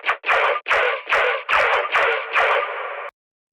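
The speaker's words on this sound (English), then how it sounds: "it's a section of your drop where you filter out the low end and the" Drop section of an electronic track with the low end filtered out, heard as a series of rhythmic, bright, thin stabs that punch in and cut off abruptly, loud and alone, ending in silence.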